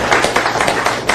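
Crowd clapping at a county supervisors' meeting, a steady close patter of many hands filling the whole moment with no voices over it.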